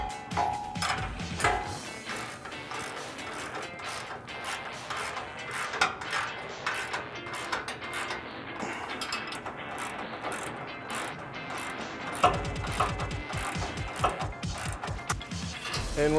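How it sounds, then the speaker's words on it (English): A 19mm socket and ratchet wrench tightens the bolts of an Iron Cross HD rear bumper on a 2009-2014 Ford F150, giving a loud, continuous run of quick ratcheting clicks close by. "We're going to use a 19mm socket and wrench."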